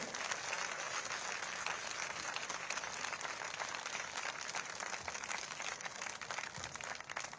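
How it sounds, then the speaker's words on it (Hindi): A crowd at a skills-development event in Uttar Pradesh applauds Chief Minister Yogi Adityanath, a continuous, even wash of clapping that sounds somewhat distant and subdued throughout. "हमारे महाराज जी के लिए एक बार जोरदार तालियां होनी चाहिए"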